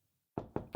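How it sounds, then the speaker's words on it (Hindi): Three sharp knocks on a house door in the early morning come after a moment of silence, each one close and distinct. "दरवाजा ठोक के नींद खराब कर दी मेरी।"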